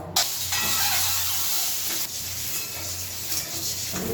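Potatoes coated in turmeric fry in a little mustard oil with a constant hissing sizzle, fairly quiet and close, with slight pulses as the pieces shift in the pan.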